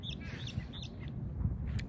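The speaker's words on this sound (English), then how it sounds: "Hearing the birds" Birds chirp outdoors among trees in a brief burst of thin, high tweets over a soft background hum.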